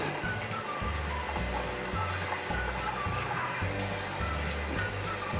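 Cold tap water runs steadily as a face is rinsed at a sink, a continuous close splashing wash over low, rhythmic background tones.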